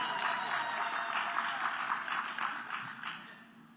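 An audience applauding steadily at an NSSF gathering in Uganda, dense clapping that holds evenly before fading slightly at the end.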